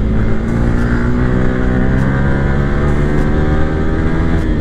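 A Kawasaki ZX10R superbike runs loud and close while being ridden, its engine a continuous dense drone with wind rush and only slight changes in pitch throughout.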